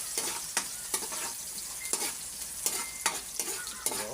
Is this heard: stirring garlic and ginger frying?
yes